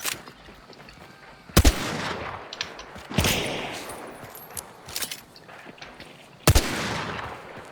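Sharp gunshots in the video game Hunt: Showdown 1896 crack at irregular intervals, a few loud close bangs with rumbling echoes and scattered smaller pops between them.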